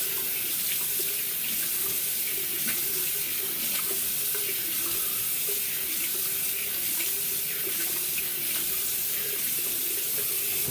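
Tap water runs steadily into a bathroom sink while the face is rinsed after a safety razor shave, a loud, close, continuous splashing hiss with small shifts as hands move through the stream.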